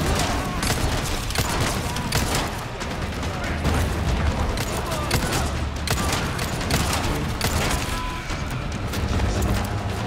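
A dense, continuous barrage of gunfire and impact blasts from a hard-difficulty fight in Resident Evil 4 Remake, loud and close, with someone talking faintly underneath.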